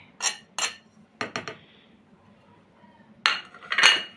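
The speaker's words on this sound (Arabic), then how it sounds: "نقلبهم كويس اوي المكونات الجافة دي كلها مع بعضها" Metal utensil clinks and scrapes against a bowl while dry baking ingredients for tea cookies, flour, baking powder and salt, are stirred together, a few sharp taps in quick bursts separated by short quiet gaps.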